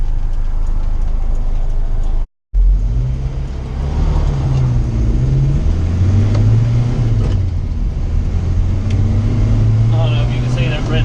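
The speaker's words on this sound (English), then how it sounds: "Wow, there's a lot of traffic today." Road traffic heard from inside a moving car, with a steady engine and road rumble, shifting low engine tones and passing vehicle noise, and a brief dropout near the start; a person talks over it.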